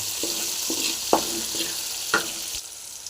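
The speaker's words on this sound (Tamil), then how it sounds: "வெங்காயம் வந்து நல்லா ஃப்ரை ஆகணும்" Small onions frying in a pan for a pickle, a steady close sizzle with a few sharp scraping stir strokes and clicks breaking through, no voices.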